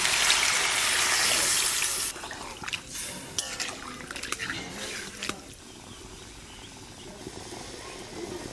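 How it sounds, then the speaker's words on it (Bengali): Water poured into a pot of spiced basanti pulao after ground spices were fried, a loud rushing hiss for about two seconds, then quieter bubbling, dripping and scattered clicks. "এবার জল দিয়ে দেবো, আর জলটা একটু অল্প দেবো"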